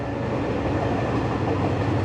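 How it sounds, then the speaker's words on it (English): A long train rolls past close by, a loud continuous rumble and roar of wheels on rail that holds steady without a break. "That's the train there."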